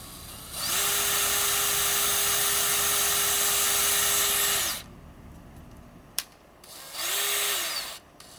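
A Husky paint mixer attachment with a plastic end and strong metal shank, spun by a power drill through fluid such as paint or stain: a loud, steady close-up whir for about four seconds, a sharp click, then a shorter second burst.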